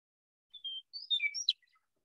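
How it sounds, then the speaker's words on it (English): A Western Meadowlark sings one short, clear song of several whistled, flute-like notes sliding in pitch, ending in a quick descending flourish against silence. "The state of Kansas also has the Western Meadowlark as their state bird."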